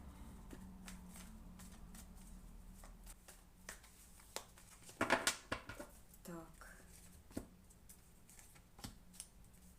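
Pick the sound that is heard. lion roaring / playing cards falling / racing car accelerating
playing cards falling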